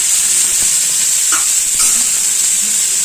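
Mutton and radish gravy being sautéed in a pan, giving a steady broad sizzle with a couple of brief stirring scrapes, close and fairly loud with no talking.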